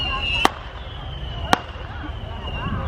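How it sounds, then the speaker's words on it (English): Distant fireworks pop twice in sharp, isolated bangs about a second apart, heard faintly across the open air of a July night at Indian Lake beneath a steady background hum. "There's fireworks over there."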